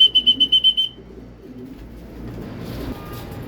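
Racing pigeons cooing as they arrive at a loft during a 25 km training flight in Saudi Arabia: a quick burst of rhythmic coos up front, then quiet rustling and faint background movement.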